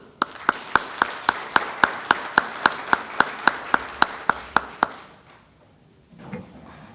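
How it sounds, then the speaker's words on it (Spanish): A small audience at a panel session claps in a slow, even rhythm, about eighteen sharp, loud claps in unison that stop abruptly, followed by quiet room noise and a brief stir. "este aplauso es para usted"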